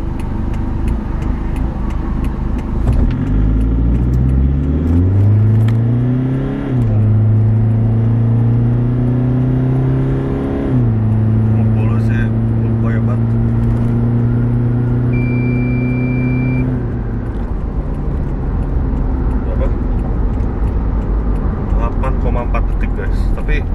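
A 2013 Toyota Fortuner VNT diesel with modifications accelerates hard, the engine note climbing in pitch through the gears with a drop at each shift, loud and close throughout.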